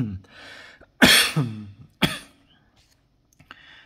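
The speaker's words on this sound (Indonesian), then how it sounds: "sorry lagi batuk" A few sharp coughs and throat clearing, close and loud, with short pauses between them.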